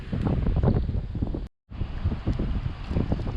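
High wind on a beach roars steadily and rumbles into the microphone, with a brief dropout midway before the gusting rush resumes and no voices are heard.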